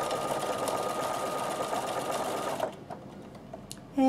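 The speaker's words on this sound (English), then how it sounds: "So you just turn it slowly, needle stop down to the left when you're turning it to the left." A Bernina sewing machine stitches steadily with a continuous motor whir for a couple of seconds, then stops, leaving a quiet pause broken by a few soft mechanical clicks and a brief final tone.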